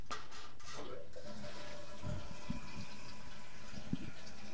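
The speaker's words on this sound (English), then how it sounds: "we set the small flush to 5 seconds" A TapnFlush toilet runs a small flush set to five seconds: a constant close rush of running water that fills the whole clip, with a few soft knocks and gurgles near the end.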